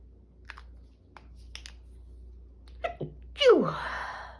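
A single sharp human sneeze bursts out near the end after a few quiet clicks and soft rustles in an otherwise hushed room.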